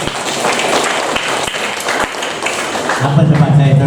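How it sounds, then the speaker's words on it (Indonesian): Audience applause at a new-student campus orientation at Universitas Karimun: a steady, dense wash of clapping fills the whole moment with a few sharper claps, and a low tonal sound creeps in near the end. "Tepuk tanganlah untuk Pak."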